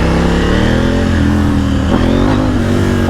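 A 2020 KTM 890 Duke R motorcycle pulls away on the road, its engine note loud, close and steady as it rises under acceleration. There is no talking.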